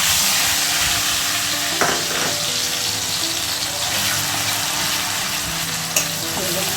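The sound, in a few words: spice paste sizzling as it is added to hot oil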